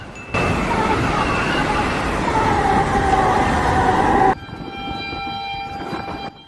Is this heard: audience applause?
no